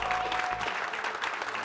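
Studio audience applause rises briefly on a television tech program, a dense, moderately distant wash of many hands clapping without any talking.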